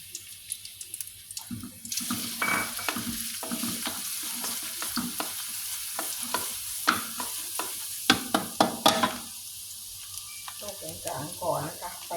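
Garlic dropped into hot pork fat in a pan, sizzling steadily and loudly up close with stirring clatter and scraping over the frying hiss.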